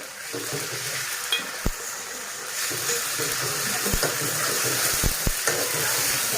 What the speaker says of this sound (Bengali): পেঁয়াজ আমি একটু ভালো করে ভেজে নেব। পেঁয়াজ ভেজে নিতে আমি এবার রসুন বাটা, একটু সর্ষে বাটা, কাঁচা ঝাল বাটা দিয়ে দিলাম।